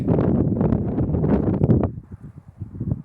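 Wind gusts across open steppe under black clouds near elm trees, loudly buffeting the microphone for about two seconds before easing into a quieter, uneven rustle.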